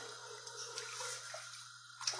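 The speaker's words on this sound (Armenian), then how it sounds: "Ջուր կավելացնեմ" Water being added to a pot of chilled summer soup trickles and splashes softly for a couple of seconds, faint and close, with a low hum behind it.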